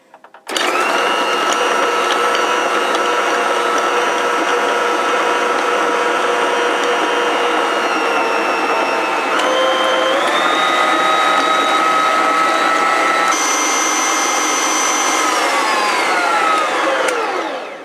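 A stand mixer creaming cookie dough whirs loudly and continuously with a steady motor hum, its pitch shifting a couple of times as the speed changes.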